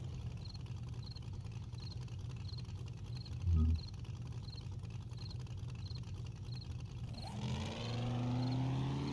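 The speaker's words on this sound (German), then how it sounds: "Ach, da habe ich mein Motorrad." A motorcycle engine in the video game 7 Days to Die hums low and steady at idle while faint regular beeps repeat, then it revs up and grows louder toward the end.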